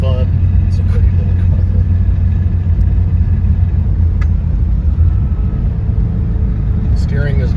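A 1976 Porsche 912E being driven hard, its engine giving a steady, loud low rumble with road noise throughout, while someone talks over it.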